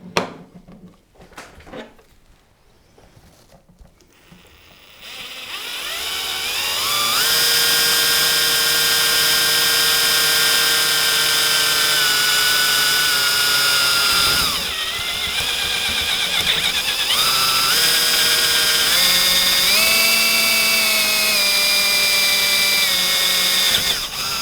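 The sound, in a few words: power drill drilling a hole for parking brake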